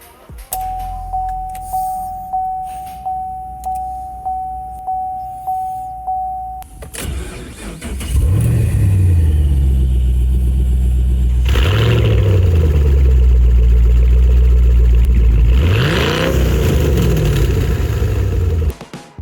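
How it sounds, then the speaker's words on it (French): Chevrolet Camaro SS with a 426 hp V8, indoors in a garage. A repeating electronic chime plays first, then the engine starts and gives several loud, deep revs that swell and fall back. "Le son de ce moteur remplissant notre garage est tout ce dont ce projet avait besoin"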